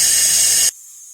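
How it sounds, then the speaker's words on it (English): A Gardner Denver FL83 air-powered jackleg rock drill, fed by an air compressor at a mine face, gives a loud hissing blast of air that stops abruptly after a moment. "The drill I'm using is a Gardner Denver FL83 rock drill, and it's powered with that air compressor we saw earlier."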